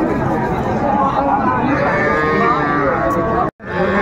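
Young bulls lowing at a cattle market in Raniganj, Dinajpur, loud drawn-out moos close by over a busy background murmur, ending in a brief cut.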